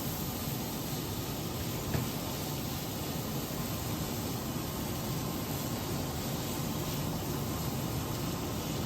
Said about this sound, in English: Sorry for the noise, it's the ventilator which is Removing the moisture.